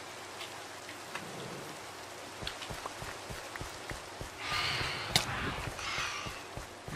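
Steady rain falls in the Minecraft video game, a continuous soft patter that swells slightly in intensity partway through, with faint scattered game sounds underneath and no talking.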